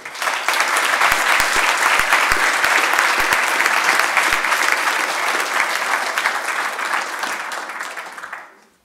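A lecture audience applauds to welcome a professor giving an inaugural lecture, a loud, dense burst of clapping that holds for several seconds before fading out.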